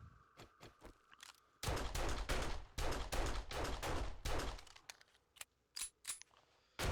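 Bursts of gunfire aimed at a tough enemy in the survival video game 7 Days to Die: a few light early shots, then a dense volley of rapid, loud bangs with short gaps, tailing off into scattered single reports.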